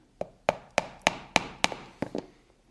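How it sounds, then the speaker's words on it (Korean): Sharp hammer blows on a leather-punching chisel driving holes through the corner of a leather mini tote bag, seven evenly spaced strikes about every third of a second, close and crisp with no talking. "그러면 이 모서리를 먼저 뚫을게요."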